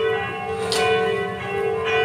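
Church bells ring in the morning, a sustained, resonant metallic tone with lingering overtones and soft repeated strikes. It is steady and moderately loud, with no one speaking.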